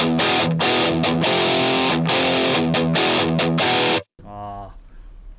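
Heavily distorted electric guitar played through the high lead preset of a Headrush amp modeler, loud sustained chords and notes for about four seconds, then a brief cutoff and a quieter ringing tail as a voice briefly speaks.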